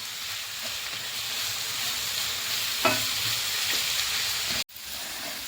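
Onions and spices for fish fry masala sizzle steadily in a hot pan, with a few scraping stirs of the spoon and a brief cut to silence near the end.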